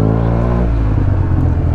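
A Yamaha TMAX 560 scooter fitted with a Malossi full-system exhaust fires up and settles into a loud, steady, deep idle, heard close and without any talking.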